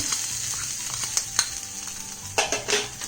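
Spice powder and freshly grated coconut stirred in a pan for a capsicum rice masala, a soft, close scraping and shuffling over a steady low sizzle, with a few clinks of the utensil against the pan near the end.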